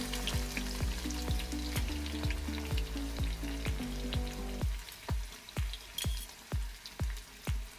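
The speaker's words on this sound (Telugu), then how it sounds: "వీటిని డ్రై ఫ్రై చేయాలి మనం ఫస్ట్." Thinly sliced onions dry-fry in hot oil for Hyderabadi chicken dum biryani, a steady crackling sizzle broken by repeated metallic stirring clinks, with the frying dropping away midway and leaving sharper, sparser scrapes and taps.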